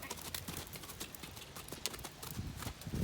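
Hooves of Cocoa Bean, a horse in her first gaiting lesson, clip-clop in a quick, even rhythm on the ground, fairly faint and steady throughout.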